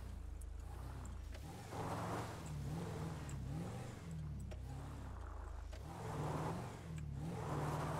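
A 2021 Maruti Suzuki Ertiga climbs a steep slope in GTA 5, its in-game engine revving in repeated rising and falling surges. The sound is moderately loud and heard alone.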